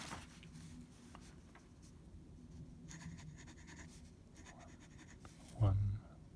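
A Waterman fountain pen with a fine nib writes small on paper, faint close scratching strokes in short bursts, ending with a low thump.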